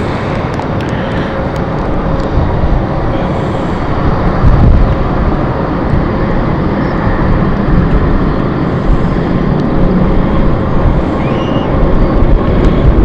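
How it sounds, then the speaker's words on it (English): Steady, loud roar of an ITA Airways airliner's jet engines at London City Airport fills the whole stretch, a broad rumbling wash with a slight swell midway and no voices. "we can hear the engine of ITA Airways and they are going"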